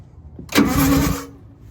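A roadside bus engine with a fault is cranked and catches, giving a brief loud whirring burst that settles into a running rumble and then fades, with no talk.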